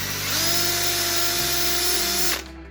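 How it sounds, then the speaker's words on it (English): A power drill fitted with a thin wire brush whines at high speed while cleaning inside a Mopar cylinder head, a steady loud buzz that briefly shifts pitch under load before spinning down at the end. "I've got a thin wire brush on my drill"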